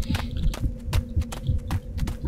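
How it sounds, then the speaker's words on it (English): Heart pounding in the video game Lone Wolf 3, a steady thudding heartbeat of deep paired throbs repeating about twice a second over a low hum, loud and close with no talk. "I can just hear the heart pounding."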